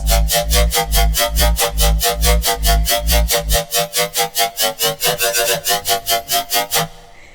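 A loud, pulsing SQ4 synthesizer pattern repeats in fast even stabs; the heavy bass drops out halfway, leaving the buzzy pulses thinner and more open.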